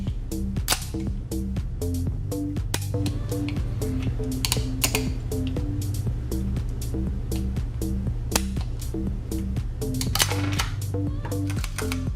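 A gun's mechanism is worked through a function check, with repeated sharp metallic clicks and snaps in an irregular rhythm, close and crisp over a steady tonal background.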